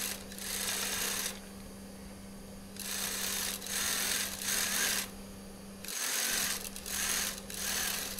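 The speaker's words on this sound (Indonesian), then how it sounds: "Selanjutnya saya akan jahit aja untuk bagian kelimannya." Sewing machine stitching the hem of a kurta runs in repeated bursts of steady whirring, stopping briefly between runs, close and fairly loud with no talk.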